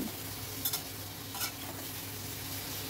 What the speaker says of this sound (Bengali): এবারে সব কিছু ভালো করে মিশিয়ে নিচ্ছি।